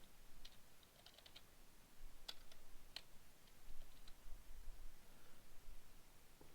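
Faint, close keyboard typing as a username goes into a computer: scattered soft key taps with a couple of sharper clicks, no talking.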